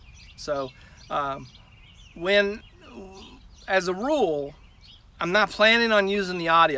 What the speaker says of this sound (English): I'm sure you can hear all the birds making a racket in the background.